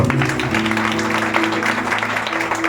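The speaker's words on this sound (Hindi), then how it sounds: "सब लोग जोरदार ताली बजा के।" A church congregation claps loudly and steadily through the whole stretch, the dense clapping running over sustained musical tones underneath.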